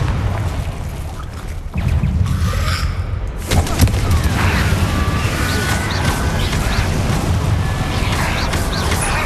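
A Confringo blasting spell explodes in the Hogwarts Legacy video game with a sharp crash, then a second heavy boom, followed by crackling, rumbling debris that stays loud.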